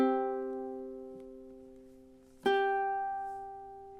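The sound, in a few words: ukulele playing measure 36 of a song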